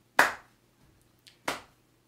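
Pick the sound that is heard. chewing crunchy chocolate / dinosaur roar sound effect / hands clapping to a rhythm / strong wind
hands clapping to a rhythm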